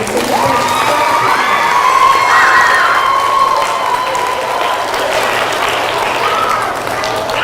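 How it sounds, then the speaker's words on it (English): Incoming sixth graders at a middle school presentation clap and cheer together, loud close applause mixed with high children's shouts and whoops that carry on at steady strength, a voice calling out faintly above the crowd. "All right, clap for yourselves, guys."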